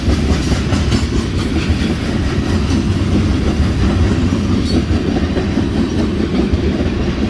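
A BNSF freight train led by Warbonnet heritage locomotives roars past close by, its loud, continuous rumble carrying a steady clickety-clack of wheels over rail joints.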